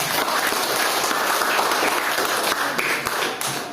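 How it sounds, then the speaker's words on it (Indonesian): Students in a classroom applaud a classmate, a brief burst of many hands clapping together, fairly loud and continuous. "Tepuk tangan untuk Adrian."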